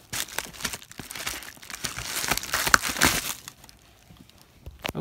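Plastic packaging around a small plush toy being cut open, close crinkling and tearing rustles in uneven bursts that fade near the end, with no talking.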